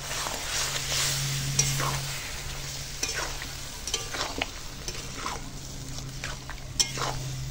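Fried prawns and pointed gourd sizzle in a pan as a spatula scrapes and stirs them in repeated irregular strokes, close and clear over the continuous frying hiss.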